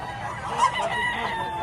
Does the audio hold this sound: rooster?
yes